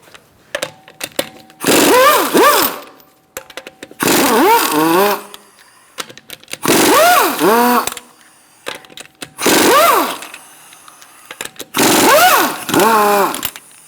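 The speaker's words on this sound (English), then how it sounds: "Using a 19mm socket, we're going to remove our lug nuts." Lug nuts on a Buick Encore front wheel being removed with a 19mm socket on a power tool, five loud buzzing bursts of roughly a second each with short pauses between, close up and with no talking.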